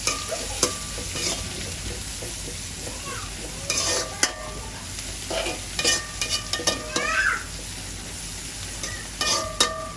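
Fennel seeds stirred in a hot frying pan, a spoon scraping in irregular bursts over a steady low sizzle, close and moderately loud with no talking.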